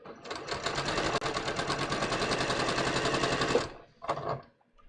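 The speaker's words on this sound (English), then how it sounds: "I'm going to take a couple stitches forward, and I'm just going to take a couple stitches back" A sewing machine stitches a seam with a rapid, close mechanical rattle for several seconds, then stops and runs a short second burst as the stitching reverses.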